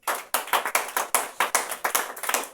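A church congregation applauds together in quick, rhythmic bursts of clapping, loud and close, in a steady pulsing pattern with no voices.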